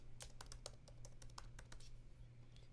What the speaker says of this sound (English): I'll type in my name.